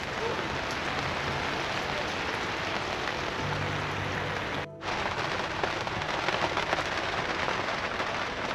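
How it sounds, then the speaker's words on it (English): Heavy, non-stop rain falls over a campground between caravans, a loud dense hiss with a brief dip midway before the downpour carries on unbroken. "Just rain, non-stop rain"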